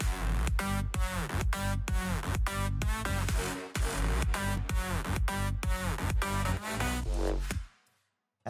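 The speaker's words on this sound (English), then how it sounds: "the main lead together with the drums and bass sounds like this" A synth main lead plays over punchy drums and bass in an electronic track, with dense pulsing hits that carry on steadily before cutting to silence near the end.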